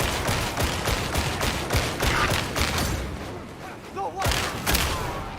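Scattered gunfire from a Warhammer video game crackles in irregular bursts, with distant booms and a thump near the end, while a voice talks over it.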